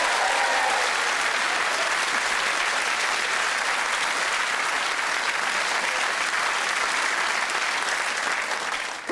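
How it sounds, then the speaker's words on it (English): Sustained audience applause fills a hall after a comedy performance of a national anthem, dense and steady throughout before tapering slightly at the end. "Round of applause for Kate."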